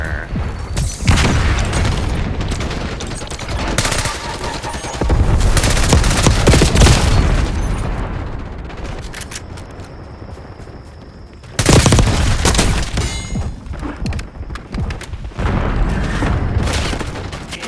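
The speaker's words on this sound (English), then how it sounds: "Napalm strike inbound." Napalm strike explosions in Call of Duty Black Ops 6 multiplayer, loud booming blasts and crackling fire rolling in dense waves, with bursts of gunfire and a brief lull in the middle.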